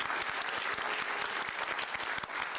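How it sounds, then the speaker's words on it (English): Theater audience breaking into applause, a full, even roar of many hands clapping continuously throughout, moderately loud with no voices standing out. "thank you, a round of applause again for letting us do this"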